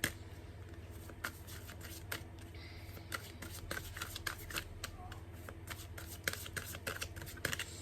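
Green Witch Oracle cards being shuffled by hand, with repeated soft riffles and flicks at close range over a low steady hum; occasional light voice sounds.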